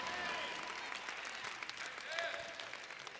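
Audience applause at a church sermon, a dense continuous wash of clapping with cheering voices mixed in throughout.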